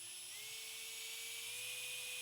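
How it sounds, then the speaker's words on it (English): A small power drill with a small bit whirs with a steady high whine that slowly builds in pitch and loudness as it bores a pilot hole into a metal rivet on a 1974 Chevy C10 vent window. "Center punched, drill, small bit."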